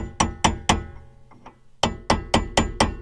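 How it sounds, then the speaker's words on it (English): A hammer drives a chisel or punch against the collars of BCracing coilovers, eight sharp metallic strikes in two quick groups, with a couple of softer taps in the pause between them. "Then just take the chisel or a punch and just punch them in there"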